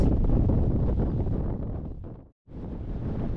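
Steady, loud offshore wind buffeting the microphone on an e-mountain bike ride near Pasaia, a broad rumbling roar that drops out briefly near the end before resuming.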